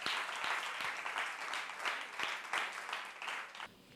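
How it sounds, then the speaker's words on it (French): Audience applause for a high school called to the stage at a student journalists' festival in Congo: dense, steady clapping from a crowd for about four seconds, fairly close and even, with no talk over it. "On va applaudir une fois de plus pour le lycée de Ngamakosso."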